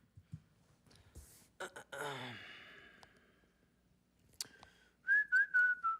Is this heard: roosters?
no